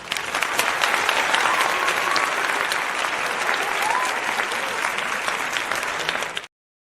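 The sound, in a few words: applause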